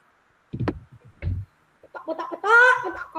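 A voice imitates a chicken during a classroom lesson, giving a few short clucks followed by a longer, louder cackling call, close and clear with no other talk.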